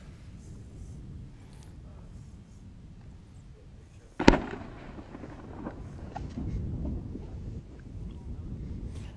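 A single sharp firecracker bang near the middle, loud and brief, over steady low rumbling outdoor noise in snowy avalanche terrain.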